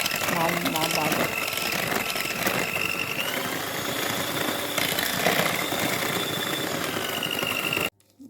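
An electric mixer beats lemon cake batter with a loud, steady, gritty whirring that runs continuously for about eight seconds, then cuts off abruptly, with no one talking.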